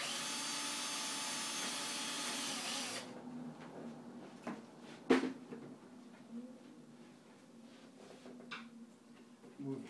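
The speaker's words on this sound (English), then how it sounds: "drill our hole" A power drill bores a screw hole during an aircraft cowl build, a steady high whine for about three seconds that then stops, followed by scattered handling clicks and a sharp knock.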